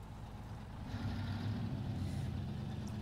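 A heavy truck engine in the SnowRunner video game drones low and steady while it drags a very heavy trailer in low gear with diff lock on. The engine swells a little louder after the first second and then holds a constant rumble.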